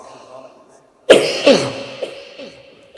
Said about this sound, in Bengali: আমি এমনিও অসুস্থ, একটু পর পর কাশি উঠে